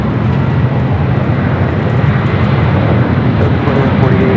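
A cargo airplane rolls down runway 25 Left at LAX for takeoff, a loud continuous roar of jet engines and broadband rumble that holds steady across the whole stretch, with no speech.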